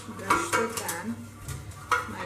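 Oil is brushed onto a cake pan, making light metallic scrapes and taps with a few sharper clinks. The sounds are close and brief.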